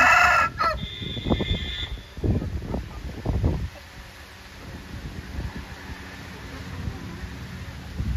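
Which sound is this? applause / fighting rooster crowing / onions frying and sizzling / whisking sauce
fighting rooster crowing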